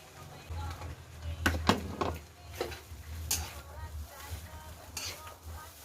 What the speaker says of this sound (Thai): แล้วเราก็ผัดไปเลยนะคะ